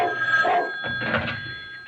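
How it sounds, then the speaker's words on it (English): A kitchen telephone rings as a radio drama sound effect, a short bell-like burst heard fairly clearly over a faint steady hum, with no talking. "telephone rang several times each day"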